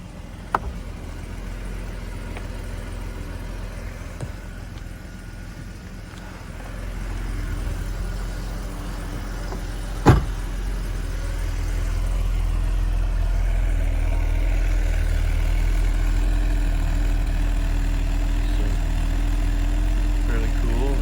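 A Mercedes 280SE engine idles steadily after a cold start, heard from outside the car as a low, continuous rumble with a sharp click midway and a slight rise in level later.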